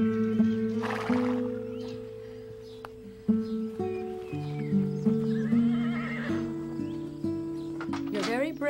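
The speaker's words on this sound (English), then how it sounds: "I'd better saddle up Augustine" A horse neighs loudly and repeatedly while hooves clip-clop steadily beneath, outdoors at a riding stable, with birds chirping faintly in the background.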